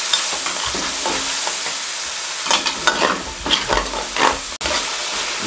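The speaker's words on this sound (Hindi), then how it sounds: "अच्छे तरीके से तमाम चीज़ों की भुनाई कर देंगे।" Peas and other ingredients for spicy Pakistani-style pasta are sautéed in a pan, a steady loud sizzle broken in the second half by clattering stirring strokes and scrapes, close and with no voices.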